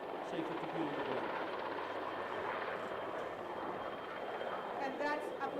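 An AgustaWestland AW109 helicopter flies overhead as an airborne command-and-control aircraft at an air show, its steady broadband rotor and turbine roar filling the scene at moderate distance, with voices faintly present.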